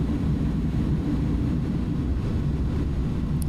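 Airbus A310 thrust reversers roaring after landing in Microsoft Flight Simulator 2020, a loud steady low rumble that fills the whole stretch without talk.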